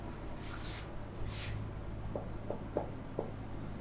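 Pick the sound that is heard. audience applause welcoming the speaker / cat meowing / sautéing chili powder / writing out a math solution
writing out a math solution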